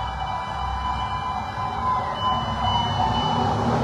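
Fire truck sirens wail steadily at a residential fire in New Antipolo, Tondo, Manila, near the Skyway, a continuous sustained tone over a rumbling crowded street.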